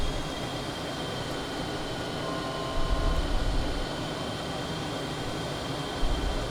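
A Beast Horus microjet flies fast in Microsoft Flight Simulator with a continuous broad jet roar and a faint whine, steady throughout without any speech.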